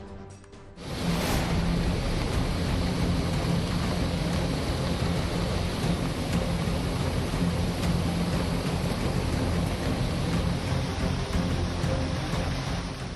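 Heavy monsoon rain and flooding in Pune and Mumbai, a loud, steady broadband roar of downpour that begins after a brief quieter second and then holds constant, with no voices.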